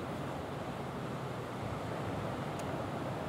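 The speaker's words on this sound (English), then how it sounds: "things are looking a little windy out there for you" Wind from Tropical Storm Colin sweeps across the Gulf coast at Cedar Key, a steady broadband roar that blends with the rush of surf, loud and continuous.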